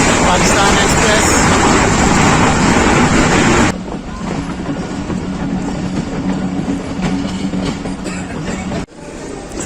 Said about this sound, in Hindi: लाला मूसा जंक्शन के रेलवे यार्ड में दाखिल हो गई है 46 डाउन पाकिस्तान एक्सप्रेस